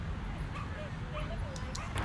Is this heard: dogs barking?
yes